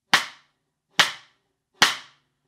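Three separate cross-stick hits on a snare drum, played with the stick held near its tip, each a sharp, woody click with a short ringing decay, evenly spaced and close.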